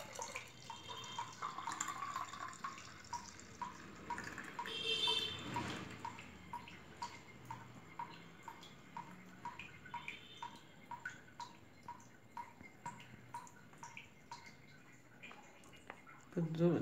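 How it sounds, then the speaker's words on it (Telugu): Apple juice poured from a mixer jar into a glass, a steady trickling, dripping liquid stream heard close for several seconds with a brief louder splash partway through. "గ్లాసులో తీసుకుందామండి పోసుకుందాం"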